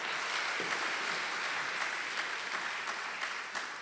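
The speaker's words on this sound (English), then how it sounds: "Let us give a round of applause to our public health honor students." An audience at a nursing and health sciences hooding ceremony claps for graduating public health honor students, giving steady, dense applause for about four seconds.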